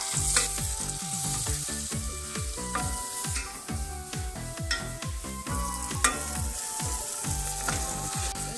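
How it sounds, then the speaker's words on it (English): Continuous hot-oil sizzle from onion frying, with rhythmic scraping and stirring strokes of a spatula against the pan, loud and close throughout, no talking. "now we cook the onion"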